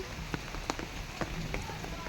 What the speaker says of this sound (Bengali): বসে বসে বৃষ্টি দেখছো